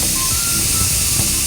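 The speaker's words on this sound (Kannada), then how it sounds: "ಈಗ ಕುಕ್ಕರ್ ವಿಷಲ್ ಹೊಡೆತಾ ಇದೆ." A pressure cooker making a fenugreek-leaf pulao vents steam in a loud, close, steady hiss with a faint whistle tone, heard alone.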